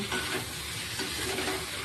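Potatoes for aloo dum cooking in a pan give a steady sizzle with faint stirring scrapes, close and continuous throughout, with no voices.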